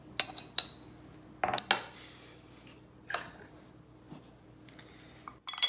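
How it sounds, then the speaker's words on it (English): Whiskey and syrup stirred in a glass for an Old Fashioned cocktail, giving a few sharp clinks of a spoon against glass spread across the stretch, with quiet gaps between the strikes. "I give it all a stir"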